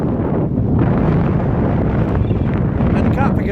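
A cold, gusty morning wind on a Brecon Beacons hilltop roars steadily against the microphone, loud and close, with a faint voice creeping in near the end.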